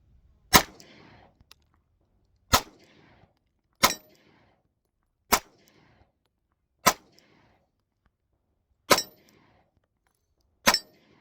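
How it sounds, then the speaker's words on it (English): A Ruger Max-9 pistol fires seven sharp, separate shots at a target, each a loud close crack followed by a short ringing decay, spaced one to two seconds apart. "let's go ahead and get a couple rounds on this target"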